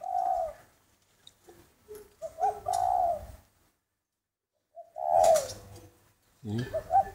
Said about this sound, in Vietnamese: Các bạn nghe thấy một cái tiếng gáy ấm hơn